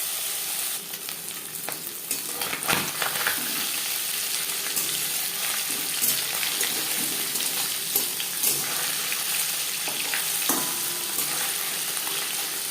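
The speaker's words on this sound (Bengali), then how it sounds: "মাছ হালকা করে ভেজে নেব।" Small mourola fish fry in mustard oil with a loud, steady sizzle and crackle that runs throughout, close by, with occasional sharp pops and no talking.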